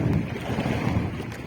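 Strong wind buffets the microphone in a continuous low roar, with faint splashing water beneath it and no voices.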